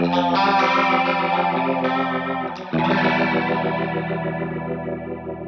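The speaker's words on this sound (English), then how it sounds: "It is called the Adaptive Vibrato." Guitar run through the Antelope Synergy Core Adaptive Vibrato effect, producing a wavering, pitch-modulated shimmer on sustained chords that ring loud and continuous, with a fresh strum about halfway.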